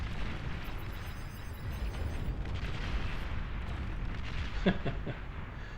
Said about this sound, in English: Just uses the traditional weapons fire.